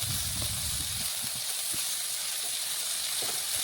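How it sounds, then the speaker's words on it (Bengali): Slices of pointed gourd (potol) fry in oil in a pan over low heat, giving a steady close sizzling hiss with a few soft pops and no one talking. "পটলগুলো ভাজতে একটু সময় লাগবে"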